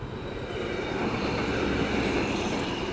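A two-car bridge train rumbles past at a distance, a steady low roar with faint high whine, no voices.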